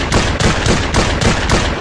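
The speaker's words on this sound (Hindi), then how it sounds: "ये शॉटगन नई बीजीएमआई में आने वाली नई तबाही है।" A shotgun in the mobile battle-royale game BGMI fires about six loud, booming shots in a quick, even rhythm, each blast close and filling the sound.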